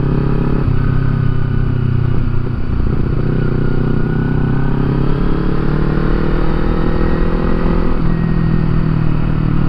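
A motorcycle carries its rider along a road on a camping trip, its engine droning steadily and close with loud wind rush and small shifts in pitch throughout, and no voices.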